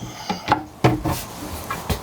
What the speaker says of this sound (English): Slide drawers, 3 of them there.